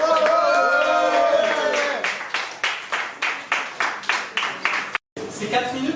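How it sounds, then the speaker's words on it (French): An audience applauds at a slam poetry evening at La Zonmé, clapping that thins into a loose, rhythmic beat of separate claps before breaking off briefly and resuming near the close. "Un tonnerre d'applaudissements pour le deuxième tour"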